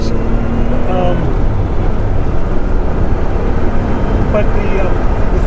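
A 1983 Porsche 911 SC Targa with its 3-liter engine rolls along slowly, making a loud, steady, even engine drone throughout.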